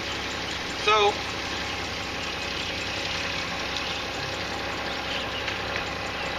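A Hyundai Santa Fe 2.7 V6 engine running after being started directly at the starter, a steady close idle drone throughout, with a brief short word spoken near the start.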